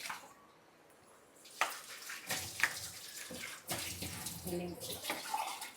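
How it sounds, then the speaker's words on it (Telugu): Water is poured into gongura chutney in a pan, heard as close splashing and pouring bursts that come and go against a quiet start. "కొంచెం వాటర్ యాడ్ చేస్తాము దీంట్లోనే"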